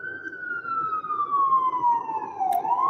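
A wailing siren sweeps steadily downward in pitch as an emergency vehicle passes nearby, loud and continuous over low road rumble, then rises again.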